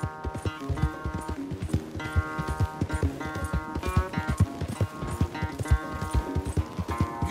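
Horse hooves pound rhythmically at a run in Red Dead Redemption 2, a close, loud, driving gallop that continues steadily from start to finish.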